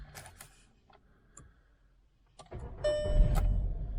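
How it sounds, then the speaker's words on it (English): A small three-cylinder car engine cranks and catches at about two and a half seconds, then settles into a steady thrumming idle, preceded by a few clicks and clunks. "It's got that thrummy little 3-cylinderness to it."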